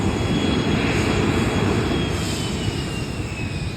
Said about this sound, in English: It's just making that noise, that engine.